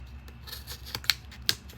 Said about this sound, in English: and I'm going to cut this part up here, and cut this,